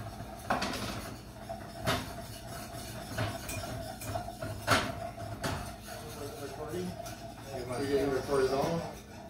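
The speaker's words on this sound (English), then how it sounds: "Whisk that in." A whisk clinks and scrapes against a pan while flour is worked into a melted-butter white sauce for chicken enchiladas, with scattered metallic taps under ongoing talk.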